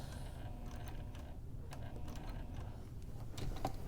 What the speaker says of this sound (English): I'm going to sew as usual to the next corner.